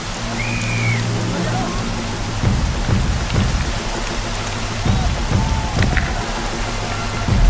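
Steady rain pours down on a match with a dense hiss, punctuated by low rumbles and scattered thuds; no talking.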